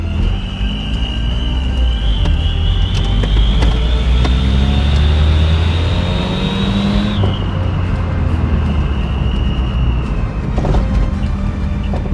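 A heavily customised Toyota Tazz drives with a loud, continuous engine note and a high whine that rises as it accelerates, then drops sharply as it shifts, sitting close and steady throughout.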